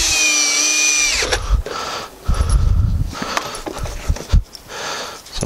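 A power drill drives screws into a 2x6 board during picnic table assembly, with a steady high motor whine for about a second, then rough grinding bursts and pauses as the screw bites into the wood, loud and close.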